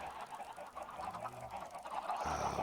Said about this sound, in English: clear out all the adult chickens so we'll have more space